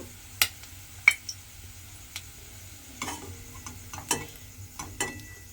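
Fried mourala fish pakoras are lifted out of hot oil over a quiet background sizzle, marked by sharp, scattered clicks and taps of a spoon or strainer against the pan.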